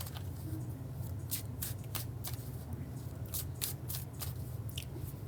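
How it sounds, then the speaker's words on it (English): Tarot cards being shuffled, giving soft repeated riffling and flicking bursts close to the microphone over a quiet low hum, with no talking. "I suppose I could do what other tarot readers do and start shuffling long ways."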